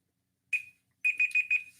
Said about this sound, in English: So timer's up on this one.